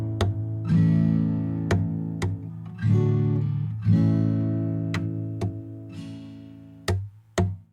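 Acoustic guitar playing a strum-and-tap pattern: sustained single strums ring out, broken by sharp percussive taps on the wooden body at a steady beat, close and moderately loud with no voices.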